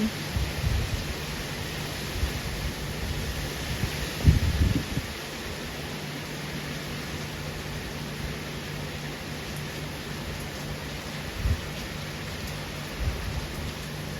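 Rain splashes under the eaves of a house in a garden during a windy storm, a steady hissing wash with a few soft knocks nearby.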